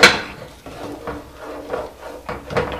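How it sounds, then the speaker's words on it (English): Caramel cake batter with butter stirred in a bowl, a spoon clinking and scraping against the sides in a few separate close strokes, with no talking. "you just want to keep stirring until the butter is absorbed into it"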